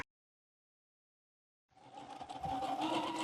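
A sewing machine stitching quilt pieces together starts after a stretch of silence, a close, steady whirring hum that keeps running to the end.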